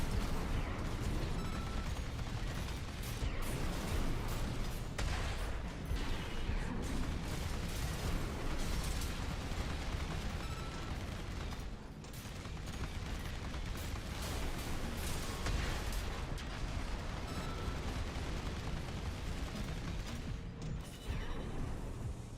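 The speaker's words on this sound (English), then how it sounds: "Right trigger, left trigger, fire both hand weapons." In Armored Core VI, a mech fires both of its hand weapons at once: sustained loud volleys of gunfire, bursts and explosive pops, layered with clanking mechanical noise, running steadily with only a brief lull in the middle.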